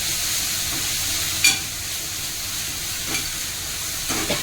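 Masala for harbara pala bhaji being stirred in a frying pan, a steady low sizzle under a few soft spatula scrapes, close and fairly quiet with no talking.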